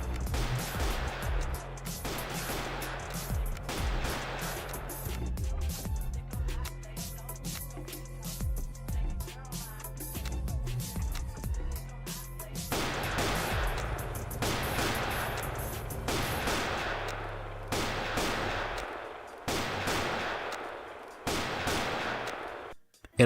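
Neo rifle gunshots in the game Graal during a spar league match, a long run of sharp repeated shots in bursts and singles over a constant low rumble, loud and continuous with brief pauses.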